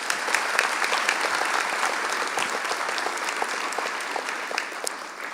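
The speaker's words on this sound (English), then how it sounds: "Let's round of applause for you." Graduates receive a sustained round of applause from a large ceremony crowd, dense, even clapping that holds steady throughout without pause.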